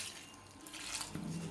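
Water pours into a mixer jar holding grated coconut, two types of chilli and hing, a brief soft splashing trickle heard alone at low volume.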